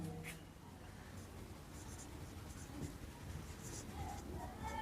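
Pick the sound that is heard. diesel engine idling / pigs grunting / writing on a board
writing on a board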